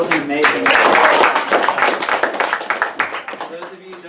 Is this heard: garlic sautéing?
no